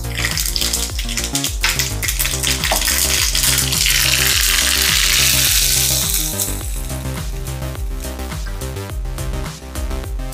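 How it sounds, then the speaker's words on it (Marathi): A tempering of spices for chutney crackles and sputters in hot oil, a loud, dense, steady sizzle that runs unbroken throughout, with no talking. "आपण आता चटणीला तडका मारून घेऊया। तेल गरम करायला ठेवलं होतं"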